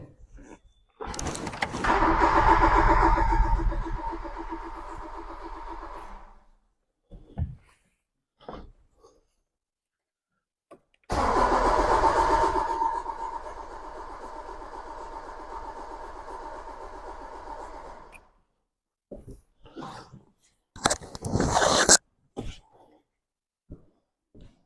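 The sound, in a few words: Talbot Samba engine cranking, not starting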